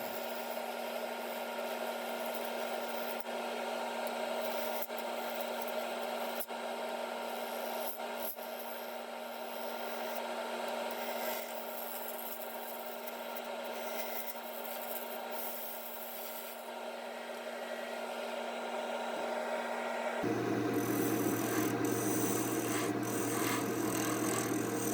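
A resin vase blank spins on a lathe at about 800 RPM while a tool scrapes and rubs it to even it out, giving a steady, close rasping hum with a lower, louder shift in tone near the end.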